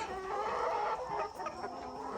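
Chickens on a small farm in Ghana clucking close by, with a rooster's crow rising in the middle, dense layered bird calls without any voices.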